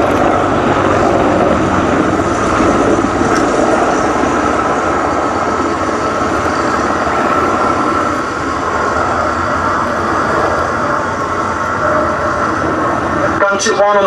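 British Army Apache gunship helicopter at a Duxford VE Day anniversary airshow display, a loud steady rotor and turbine roar held throughout with no let-up, building briefly near the end.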